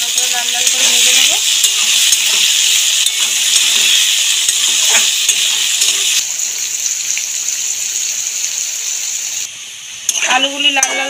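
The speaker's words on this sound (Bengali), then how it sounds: "নেড়ে চেড়ে ভালো করে লাল লাল করে ভেজে নেব।" Potatoes with turmeric and salt fry in hot oil for a Bengali mixed vegetable dish, a steady loud sizzle broken by the scrape and clatter of stirring. Near the end the frying drops away briefly and other kitchen sounds come in.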